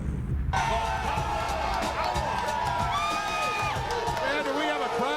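A lively crowd cheers and whoops at a pro wrestling event, loud and continuous, with whistles and shouts rising over the din and voices talking throughout.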